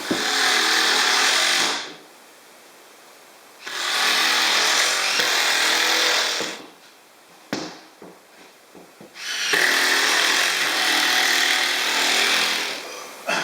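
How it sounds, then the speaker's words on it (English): A power tool drives 3-inch screws into a wooden joist while mounting a ski rack to a wall, in three long loud bursts of high whirring with short pauses and clicks between them. "using 3-inch screws, I'm going to screw this into the joist"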